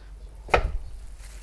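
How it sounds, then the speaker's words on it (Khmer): A single sharp knife chop on a cutting board as vegetables are cut for pork head soup, one close thud standing alone against a quiet background. "ពេលឥឡូវយើងធ្វើការកាត់បន្លែ"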